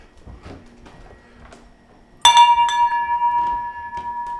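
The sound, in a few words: ringing a shop bell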